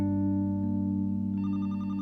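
Telephone ringing in the mystery video game The Roottrees Are Dead, a steady electronic tone that switches partway into a pulsing trill, close and alone.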